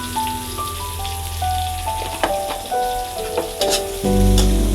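Chopped onions sizzle in a pan as they are stirred and fried for a fish dish. A steady hiss runs throughout, broken by spoon scrapes, and a low rumble swells near the end over a faint musical tone.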